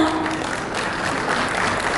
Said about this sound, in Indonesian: boleh berikan tepuk tangan dulu untuk kita bersama.